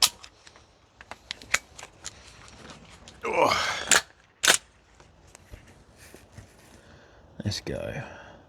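Guns Modify 416 MWS gas blowback rifle fired on an outdoor range, a few sharp cracking shots: a pair of loud reports in the middle and another near the end, with scattered clicks and brief talk around them.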